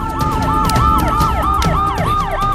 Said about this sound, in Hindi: एम्बुलेंस है भाई।